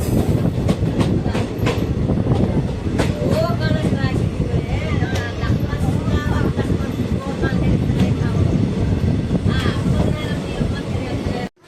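A passenger train hauled by WAP 7 electric locomotives rolls into a railway station, wheels rumbling and clacking steadily and loud from on board, rhythmic joint clicks repeating throughout before the sound cuts off abruptly.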